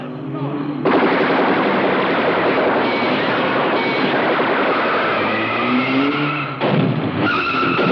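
Soldiers fire their guns in a 1982 horror film: dense, continuous, loud gunfire that rattles on for several seconds, breaks off briefly, then resumes.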